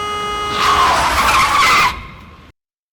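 Car braking hard on a highway, tires squealing in a loud skid that builds over about a second and a half, then fades quickly to silence.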